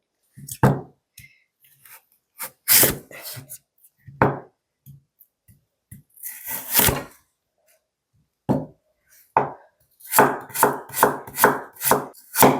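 A knife chops radish on a cutting board for nabak water kimchi: scattered, close, crisp thunks with pauses, ending in a fast run of evenly spaced cuts.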